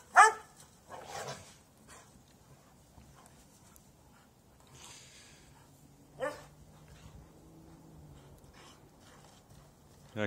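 A dog in the snow gives a few sharp barks and short yelps, spaced out over a quiet outdoor scene with faint background noise.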